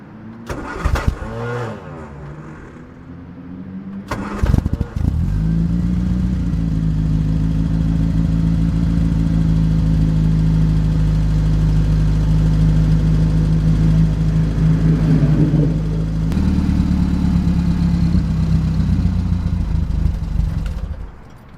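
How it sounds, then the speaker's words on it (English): A Riley Elf classic car engine cranks and catches after a couple of short attempts, then settles into a loud, steady close-up idle with a slight rise in revs near the end. "what's happened here is we just started the car, as you've seen"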